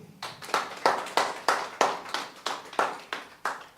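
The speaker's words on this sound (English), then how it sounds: "Clap for him." Audience clapping in unison at an academy introduction session, about a dozen sharp, evenly spaced claps in a steady rhythm, fairly close and moderately loud, with no talking over them.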